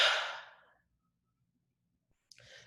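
One deep breath, exhaled as a soft, breathy sigh that fades out, then a short silence and a quieter intake of breath near the end.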